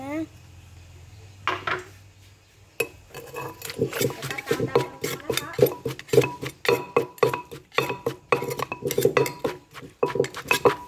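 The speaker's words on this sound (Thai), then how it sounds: "ต่อมาก็ใส่มะละกอลงไปนะคะ" Green papaya for Thai som tam is pounded and tossed in a mortar, giving a busy run of close wooden thuds, clinks and clattering knocks, irregular and fairly loud after a quieter start, with no talking.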